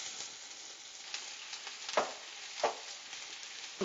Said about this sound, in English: All right, so we're going to pan fry our apples here.